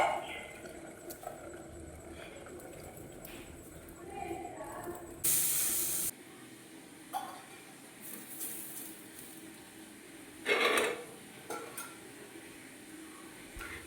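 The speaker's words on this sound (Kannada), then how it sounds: "ಇವಾಗ ದೋಸೆ ಹುಯ್ತಾ ಇದ್ದೀನಿ." Dosa batter is poured onto a hot pan in a home kitchen, giving two sharp bursts of hissing sizzle between quieter stretches of soft utensil clatter.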